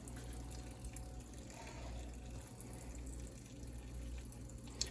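Strawberries rinsed under a running kitchen tap, a steady close hiss of flowing water splashing into a sink with faint drips, continuous throughout with no talking.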